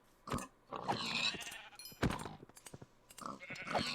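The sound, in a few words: sheep bleating in video game Minecraft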